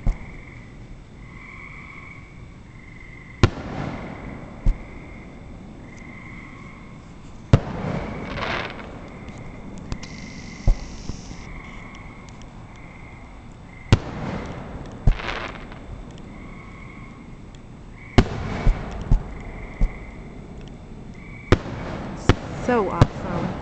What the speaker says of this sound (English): look at the perfect view of the fireworks